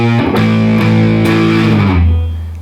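A riff ending on distorted electric guitar power chords: a few heavy struck chords, then a final chord ringing out and slowly fading, loud and close with no talking.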